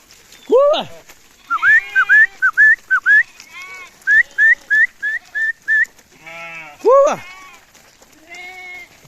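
A flock of sheep and goats bleats out in a forest grazing area while a herder gives a quick run of short, repeated whistles, close and clear among louder bleats.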